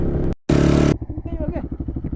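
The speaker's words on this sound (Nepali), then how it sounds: "ल हेर्नुहोस्, देख्नुभयो, दुई गियरमा हानिरहेको बाइकले।" A motorcycle held in second gear on a rough road, its engine a steady mid-pitched throb with a rapid pulsing beat, after a short loud burst and a brief gap.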